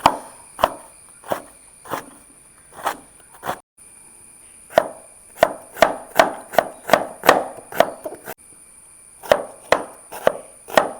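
A knife chops onions sharply on a board, irregular strokes at first, then a quick steady run of cuts, with brief pauses between bursts.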